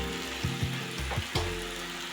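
Chili powder and turmeric sizzle in hot mustard oil in a pan for a salted hilsa curry: a quiet, steady fry broken by a few sharp utensil scrapes and stirring knocks.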